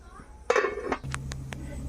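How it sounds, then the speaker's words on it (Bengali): A metal lid clanks onto a pot of boiling pasta, followed by a few light clinks of cookware in a quiet kitchen. "এখন ভালোভাবে আবার ঢেকে দিব সিদ্ধ হওয়ার জন্য।"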